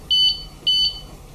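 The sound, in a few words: Top Secure TS021 alarm padlock alarm sounding when tampered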